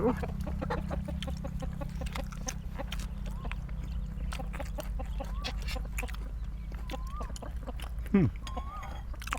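Chickens clucking outdoors among rice paddies, several short clucks and calls scattered over a steady low hum and wind, fairly distant, with a louder squawk near the end.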